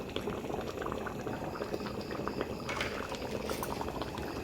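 Khichdi with vegetables, finished with ghee and coriander leaves, bubbles in a pot with a steady, close boiling burble and soft popping throughout.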